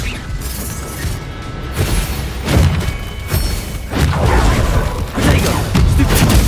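Confringo fire spell blasts in Hogwarts Legacy on PS5, a series of loud booming explosions and thuds, four or five heavy impacts in quick succession amid rumbling battle noise.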